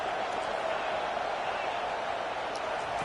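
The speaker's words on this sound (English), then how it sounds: "Listen to this crowd just shaking the girders of this place, trying to help their defense." A packed football stadium crowd roars steadily from start to finish, a dense, loud, unbroken wall of cheering noise while the home defense is on the field.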